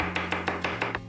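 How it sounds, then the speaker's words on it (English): A knife chops onions on a board in six quick, evenly spaced strokes, close and crisp, over a low steady background hum. "Start with chopping up some onions."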